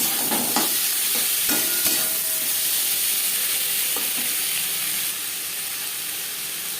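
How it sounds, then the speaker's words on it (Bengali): Onion and tomato fry in hot oil in a wok that was just used for frying fish, giving a steady loud sizzle and hiss with a few faint stirring clicks early on. "মাছ ভেজে নেওয়া কড়াইতে আবারও তেল দিয়েছি। দিয়ে দিলাম পেঁয়াজ টমেটো।"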